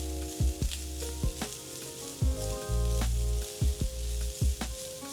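Minced garlic sizzling in a hot frying pan with chili flakes and oregano, a steady crackling fry broken by several low clunks and scraping stirs of the pan.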